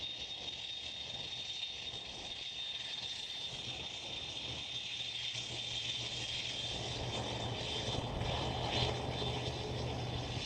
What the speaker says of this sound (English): KLM is about to depart.